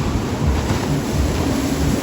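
A water ride boat splashes down at Six Flags Magic Mountain, heard as a continuous broad rushing wash of water at a distance, steady and unbroken with no voices.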